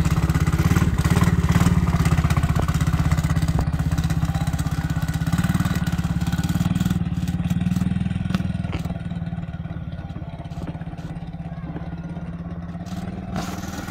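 A quad ATV engine runs continuously while a three-year-old drives it with his mother riding along. The motor drones loud and steady throughout and eases slightly toward the end, with occasional clatter.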